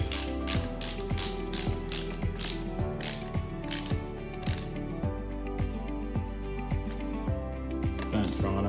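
A hand ratchet tightens screws while a Safari snorkel is fitted to a 2023 Toyota Hilux. Close, rhythmic rapid clicking comes in repeated bursts, broken by short pauses as the handle swings back.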